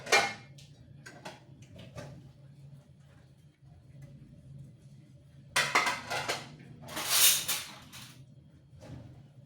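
Glass plates, pots and dishes washed by hand, slowly and carefully, with intermittent clinks and clatters at close range, a few louder bursts of rattling dishware, and a low hum beneath.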